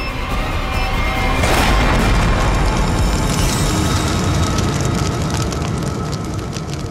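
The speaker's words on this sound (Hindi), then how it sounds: "डायनामाइट बॉक्स अलग करेंगे तो बम फट जाएगा" A bomb goes off in a TV crime drama as a loud, roaring explosion that swells to a peak early, then sustains a dense rumble and crackle for several seconds.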